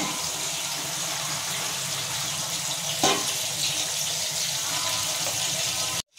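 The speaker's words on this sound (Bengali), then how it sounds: "আমি এবার দিয়ে দিচ্ছি গরম জল" Hot water pours steadily into a pan of boiled soybean seeds cooking with spices, a continuous splashing gush at close range that runs evenly throughout before cutting off abruptly near the end.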